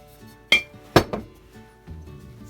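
Lid set onto a container in a muffin-baking kitchen: two sharp clinks close together, then a softer knock, and a faint clatter after.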